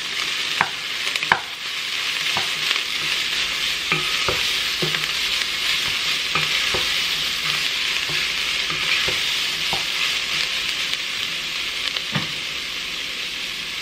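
Seasoned meat for chili sizzles steadily in a hot pan while being stirred, a loud continuous frying hiss broken by intermittent scraping knocks of the utensil.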